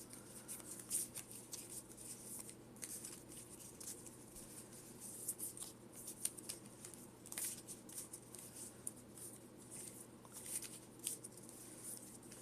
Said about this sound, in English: I am going to cut and shuffle